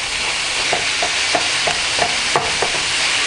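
Ground meat stirred and broken apart while browning in a hot pan for meat pie filling, steady sizzle with a run of soft rhythmic scraping strokes of the spoon, no talk.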